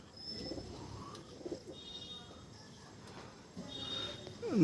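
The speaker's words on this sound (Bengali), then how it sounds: "এখনও পায়রাগুলো ওই যে উঠছে" Pigeons, including Punjabi birds, are flying after rain under mild weather. Faint coos and thin calls come and go over a quiet outdoor hum, with distant, scattered bird sounds throughout.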